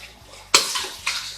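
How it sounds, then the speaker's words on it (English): Cold water from a kitchen tap splashes over a batch of cooked tomatoes during home ketchup canning, with two sharp gushes of running water, the second following about half a second after the first. "I'll just run cold water and get these to cool down so they won't continue cooking"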